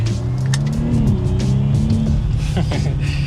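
A 2021 Audi SQ5 SUV engine drones and revs steadily up close while accelerating in dynamic mode, with a rising whine under continuous road and cabin noise.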